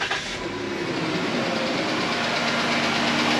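A Pentastar 3.6 engine idles close by with a fast, steady lifter tick riding over its even hum, continuous for a few seconds with no talking.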